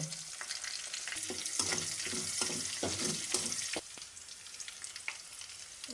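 Chopped onions, chillies and bay leaves fry in a pan for a chicken roast, giving a steady close sizzle broken by a run of rhythmic stirring scrapes that soften toward the end.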